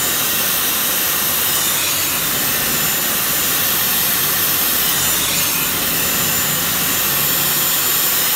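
A Dyson Airwrap hair styler with the long barrel fitted, blowing a loud, steady whooshing airflow close up for the whole stretch, no voices over it.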